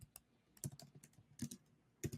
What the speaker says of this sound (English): That's just me typing.